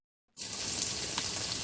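Spice masala for biryani sizzles in a pan over a clay stove, a steady, loud, close frying hiss that begins abruptly after a brief silence and continues evenly.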